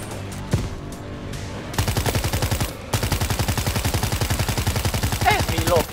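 Rapid automatic gunfire in the zombie shooter World War Z, a steady rattling burst of loud, closely spaced shots after a few scattered single hits, carrying on for several seconds without talk.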